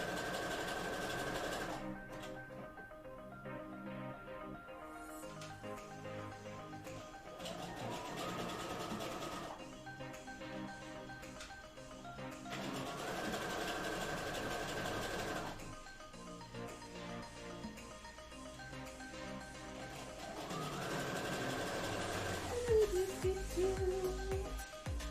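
A sewing machine stitching fabric runs in several bursts under steady background music, each run a rapid mechanical whir that starts and stops.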